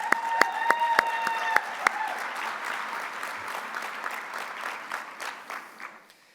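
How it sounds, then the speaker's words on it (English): Conference audience applause with sharp individual claps at the start that merge into a steady wash of clapping, which fades out toward the end. "So one more round of applause for those three folks."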